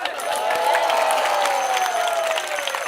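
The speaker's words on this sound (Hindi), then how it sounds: "अरे सारे बजाओ ताली।" Steady broad clapping from an audience at a devotional discourse during a Braj Mandal parikrama in Baldev, Vrindavan, continuous and fairly close for the whole stretch with a faint tonal hum underneath.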